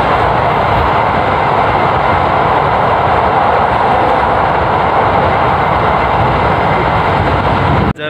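Executive Ranggajati train running on slab track, a loud steady broadband rumble and roar heard from inside, continuous and even without rhythmic clatter, cutting off abruptly at the end.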